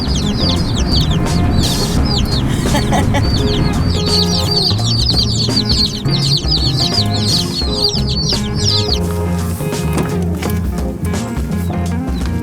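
Newly hatched chicks in a box, a dense chorus of high, bright peeps that runs continuously and loud and close, over a low background rumble.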